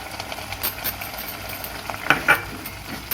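Methi matar curry of fenugreek leaves and peas is stirred in a pan, with soft sizzling under a spoon scraping and a couple of sharp clinks against the metal near the end.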